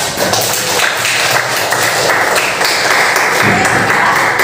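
Continuous applause from a classroom of students fills the whole stretch, a dense steady patter of many hands clapping close by with no clear pauses.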